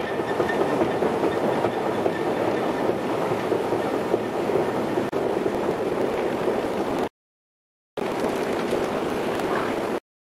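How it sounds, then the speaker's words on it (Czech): A Prague metro train arriving at a station rumbles and clatters steadily, loud and close, with a brief cut in the sound before the rolling noise resumes. "Teďka čekáme, až tam přijede metro a vidíme, že už se něco valí. Už jede."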